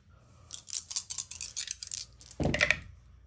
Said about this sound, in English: throw 4 blue dice at your torrent and see what he looks like